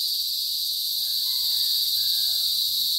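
Crickets shrill loudly and without a break in a steady high-pitched drone outside a home at night, with faint insect trills layered over the top and no voices.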